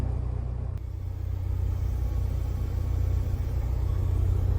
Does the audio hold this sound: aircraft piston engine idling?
yes